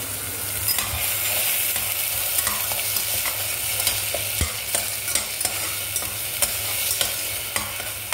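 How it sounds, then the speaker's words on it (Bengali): Spice paste frying in a little oil in a pan, a steady close sizzle broken by frequent spatula scrapes and light metallic taps, continuous throughout without any talking. "এই পেস্টটাকে খুব ভালো করে ফ্রাই করতে হবে যতক্ষণ না একটা ব্রাউনিশ কালার"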